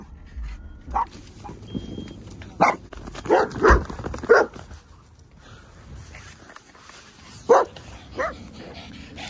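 Dogs bark at a dog park in short bursts of several loud, close barks and yips, separated by quieter gaps with faint background noise.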